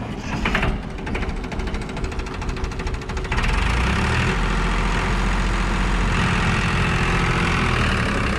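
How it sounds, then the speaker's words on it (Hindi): A Farmtrac Champion diesel tractor engine, nine years old, chugs and rattles close by, its rhythmic knocking growing louder and steadier as it settles into a heavy idle. "चलो आप ट्रैक्टर स्टार्ट करो"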